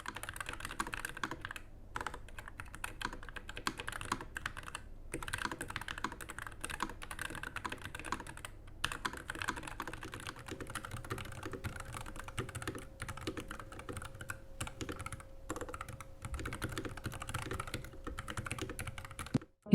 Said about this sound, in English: Now let's hear how different is the typing feel on the V2 compared to the V1.